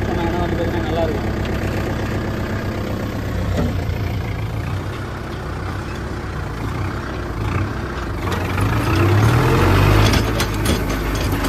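A farm vehicle engine idling with a known fault, a steady low rumbling drone that swells slightly near the end, with someone talking over it.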